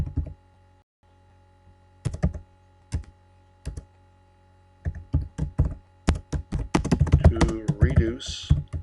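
Typing on a computer keyboard while entering data into an Excel spreadsheet, with sparse single key taps at first, then a quickening run of clicks toward the end, close and moderately loud, with a voice speaking over part of it.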